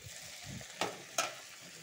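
Mixed vegetables with pumpkin and ginger frying in a pan for a vegetarian chorchori, with a soft sizzle underneath and two sharp spatula scrapes from stirring close by.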